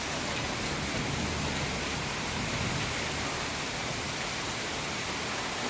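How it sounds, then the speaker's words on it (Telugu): Heavy rain pours down in a dense, steady roar of hiss, loud and unbroken throughout, with no voices. "పెద్ద భారీ వర్షాలు చూడండి"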